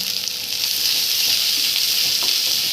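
Onion and capsicum pieces sizzling in oil in a pan while chicken manchurian is being made, a steady close hiss of frying with faint stirring clicks and no voices.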